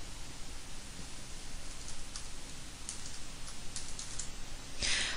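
Typing a name and date into an online school recommendation form on a computer keyboard: a faint, steady patter of light key clicks under soft background hiss, with a sharper burst of keystrokes near the end.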